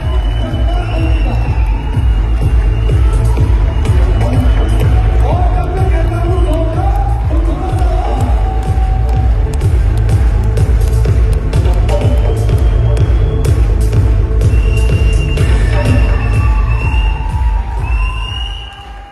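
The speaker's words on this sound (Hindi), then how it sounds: "एक बार जोरदार तालियों से स्वागत किया जाए।" Loud crowd cheering and clapping at an event welcoming Mr. Bikas Ghosh, the Imperial King, continuous and dense throughout with whoops and shouts rising above the roar before it tapers at the end.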